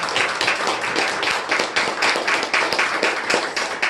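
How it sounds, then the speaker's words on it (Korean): A church congregation applauds together at a Thanksgiving service, a dense, steady clapping that runs the whole time with a fairly close, even rhythm. "하나님께 영광의 박수를 올려드리길 바랍니다."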